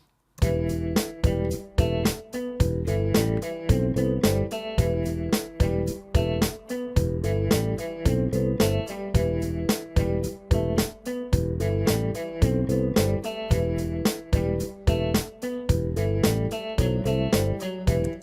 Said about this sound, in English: it's a very simple loop. It's just a kick, snare, hi-hat, a bass, electric piano and a guitar